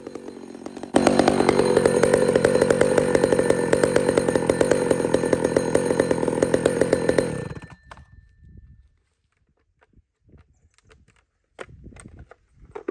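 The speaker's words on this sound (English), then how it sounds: "You know the feeling when you get to run a power saw." A power chainsaw cuts through straight-grain fir with a loud, close, continuous roar for several seconds. It then cuts off, leaving quiet with a few light clicks and rustles.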